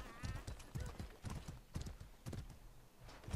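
Horse hooves clip-clopping in a video game, a quick uneven run of soft thuds repeating across a few seconds, fairly quiet, with a brief whinny near the start.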